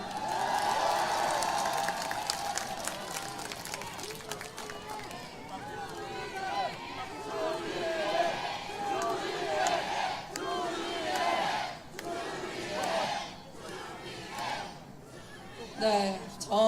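A political rally crowd roars with cheering and applause outdoors, a dense, continuous wash of many voices and clapping that swells and dips, with a speaker talking over it.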